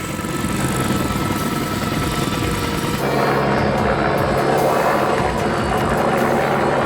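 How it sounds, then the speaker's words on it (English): A search and rescue helicopter flies overhead above remote Temagami wilderness, its loud, steady rotor and engine drone filling the whole stretch without pause. "That chopper's up in the air looking for us."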